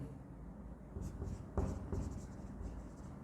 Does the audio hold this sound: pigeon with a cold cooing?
no